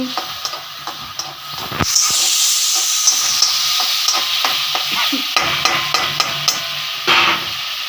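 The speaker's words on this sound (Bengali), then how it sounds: "তিনটে জিনিসকে ভালো করে কড়াইতে নাড়াচাড়া দিয়ে মিশ্রণ করছি" A spatula stirs and scrapes a mixture of chili and ginger paste in a hot kadai with repeated sharp metallic clicks over a soft, steady sizzle, close and distinct, with no talking.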